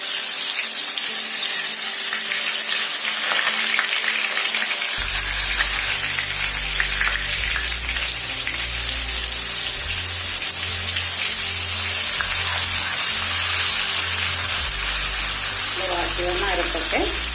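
Pieces of meat dropped into well-heated oil in a pan start frying with a sudden loud sizzle, a steady crackling hiss that continues throughout with some clatter and a brief voice near the end.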